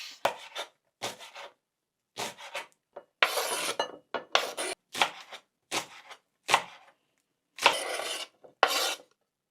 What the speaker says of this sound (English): First, I cut the spring onions.